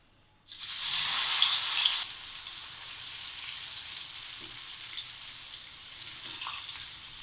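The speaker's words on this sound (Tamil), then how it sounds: "இப்போ அதில் இந்த கிழங்கை போட்டு வறுக்க போகிறோம்." Pieces of elephant yam drop into about a cup of hot oil in a pan, setting off a loud burst of sizzling that settles after a second or two into a steady, quieter frying hiss.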